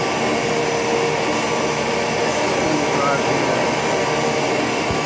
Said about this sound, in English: FEMCO 4-inch CNC boring mill in operation. Spindle on low RPM.